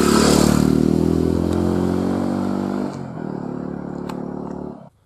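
Motorcycles pass along a village street in India, a loud, steady engine drone that drops slightly midway and then cuts off near the end, with faint clatter and no voices.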